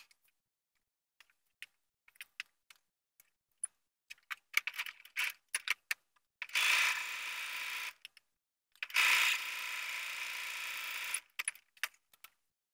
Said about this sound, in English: so now I'm going to top stitch it